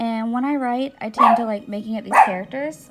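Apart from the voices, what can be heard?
small dog barking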